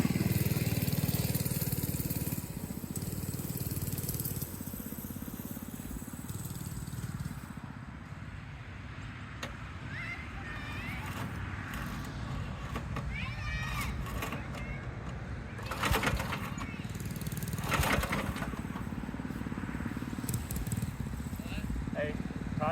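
A Billy Goat brush mower runs through rough brush with a continuous, fairly loud engine drone, its tone shifting as it works, while a person talks over it.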